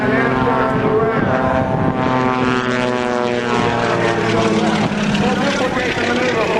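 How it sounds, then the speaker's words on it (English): A propeller airplane flies an aerobatic loop and roll at a 2004 Air National Guard open house airshow in Rhode Island. Its engine drones loud and steady, and the pitch shifts as the plane maneuvers, with a voice talking over it. "Feet in, left aileron, and roll the airplane from upside down to the right side up."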